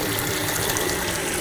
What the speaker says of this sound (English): I'm gonna start the water.